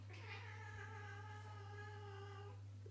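A house cat gives one drawn-out, wavering meow lasting a few seconds, close and clear over a low steady electrical hum in an indoor room.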